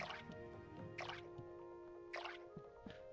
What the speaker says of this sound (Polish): wszystko podlane